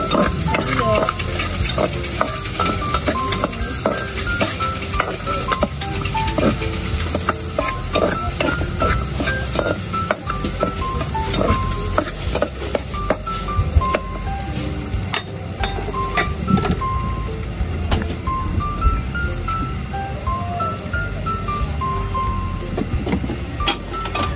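Onion and garlic sizzle and fry in a hot pan while a utensil stirs them, giving steady crackling with frequent scraping clicks throughout, loud and close with no talking.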